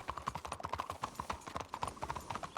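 Horses pull a wagon through a video game town, their hooves clip-clopping in a quick, busy rhythm of overlapping hoofbeats at close range, without speech.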